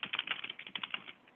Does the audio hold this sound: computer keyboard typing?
yes